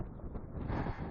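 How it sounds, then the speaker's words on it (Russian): Strong, gusty wind buffeting the microphone outdoors on an extreme zander fishing trip, a loud continuous low roar and rumble with no talk. "Ветер просто ужасный."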